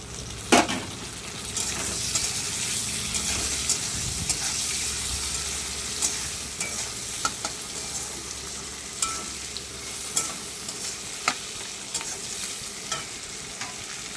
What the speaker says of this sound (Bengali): পেঁয়াজটা নরম হয়ে গেছে, এর মধ্যে দিয়ে দিচ্ছি এবার টমেটো কুচি।